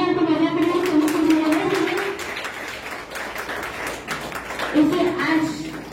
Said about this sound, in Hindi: तालियां तो बजा करें